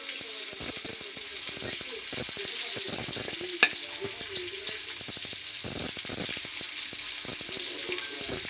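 Fish fries in a pan on the stove with a low, steady sizzle and crackle running throughout, plus a single sharp click midway, close and unbroken by speech.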